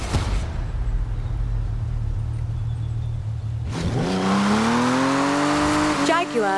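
Jaguar car in the video game Forza Horizon 4: a low engine idle rumble, then the engine revs up hard, pitch climbing steeply as the car accelerates, loud and close, with brief tire noise.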